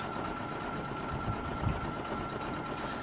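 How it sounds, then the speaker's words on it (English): Embroidery machine stitching a design onto felt at 500 stitches a minute, giving a steady, even mechanical whir with a faint rhythmic chatter, close by and alone, with no talk. "my machine is set on 500 stitches a minute"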